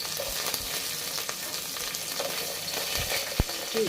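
Mint, curry leaves and green chillies fry in oil in a pan, a dense continuous sizzle with a brief stirring knock, close and steady.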